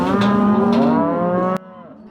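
A cow on a cattle ranch gives one loud, close, drawn-out moo that wavers in pitch and cuts off sharply, leaving near silence.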